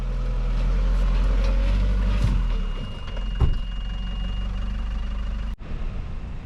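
Suzuki Ignis engine running close by, a steady low drone that settles slightly lower partway through, with a sharp clunk near the end.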